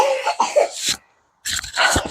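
Two bursts of harsh coughing separated by a short silence, close and loud, with no talking.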